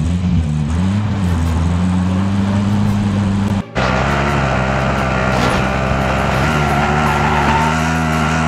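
A car driven in the video game Call of Duty Warzone gives a loud, steady engine drone that rises and falls in pitch, with tire and road noise, a brief dropout partway through, then continued driving.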